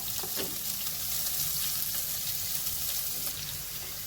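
Onion frying in a pan for wheat noodle upma, giving a steady, close broadband sizzle with a few light stirring scrapes and no talk.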